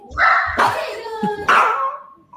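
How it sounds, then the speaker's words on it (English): A dog barks and yips in a few quick, close, loud bursts, the last tapering into a whine. "Cute dog."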